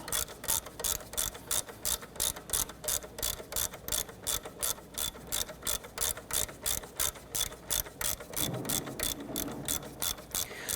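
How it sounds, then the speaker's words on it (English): A ratchet spins out a 12mm bolt on a 1992-1996 Toyota Camry 2.2L four-cylinder engine, its pawl clicking in quick, even bursts, about two per second, steady and close, with no talk. "This is a 12mm. I'm just going to spin that right out, remove it."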